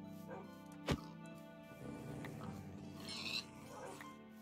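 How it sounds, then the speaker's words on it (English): Dogs in Minecraft give a short, sharp bark, then a few fainter yips and whimpers over a low game background, with some quiet talk. "So many dogs."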